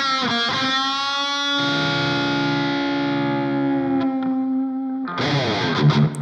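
Heavily distorted electric guitar, run through the ML Sound Lab Amped GNR amp plugin, rings out loud sustained chords and notes, then plays a short choppy burst near the end.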